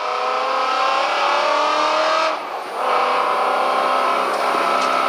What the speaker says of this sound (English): Motor feels good so far